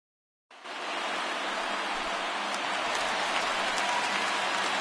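Rain in a PS4 baseball video game begins abruptly after a brief silence, then holds as a steady, even hiss of falling rain, close and constant, with no voices over it.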